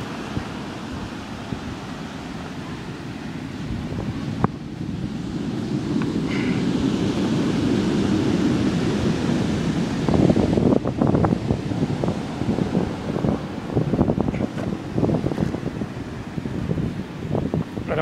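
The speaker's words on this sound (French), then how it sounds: "alors là il y a une houle assez costaude" Strong ocean swell breaks along a beach near a port jetty, a steady broad roar of surf mixed with gusting wind buffeting the microphone, swelling louder midway through.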